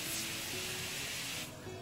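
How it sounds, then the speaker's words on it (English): ScreenGuard foam cleaning spray jetting onto a computer monitor, one loud continuous hiss that cuts off sharply near the end, no voices. "yes, I am spraying directly onto it, but again, this is a foam"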